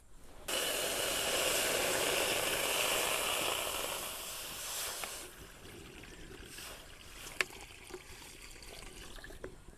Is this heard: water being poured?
yes